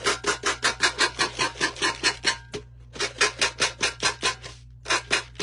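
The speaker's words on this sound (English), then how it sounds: "I'm going to sand off, whoops, the edges, the top and the bottom" Sandpaper rubs the top and bottom edges of a metal can in rapid, even back-and-forth strokes, loud and close, with a short pause midway.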